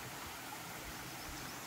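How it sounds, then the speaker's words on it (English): Water flows steadily from a marsh along the Appalachian Trail, a soft continuous rushing with no voices. "even though you could hear the water"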